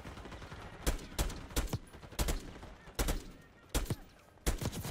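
Bursts of gunfire in Call of Duty Black Ops 6, with repeated loud rapid shots in short volleys every half second or so over a continuous background din.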